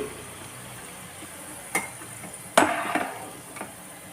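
Dried Maldive fish, masi karuvadu, frying in oil in a pan, with a faint bubbling sizzle and a few sharp stirring clatters, one louder burst of sizzle midway, no talking.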